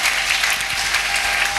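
Congregation clapping steadily in a church, a dense, continuous wash of applause close by with no break in the sound.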